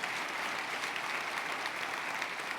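A church congregation applauds at a sermon, a steady burst of clapping from many hands that is moderately loud and continuous throughout.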